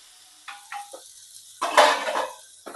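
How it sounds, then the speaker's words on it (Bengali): Vegetables sizzling in a pan with a few short spatula scrapes and stirs, then a louder burst of frying hiss as they are turned over, close and otherwise quiet. "এবারে একটু নাড়াচাড়া করে আমি ঢেকে দিচ্ছি সবজিটা একটু সিদ্ধ হবার জন্য"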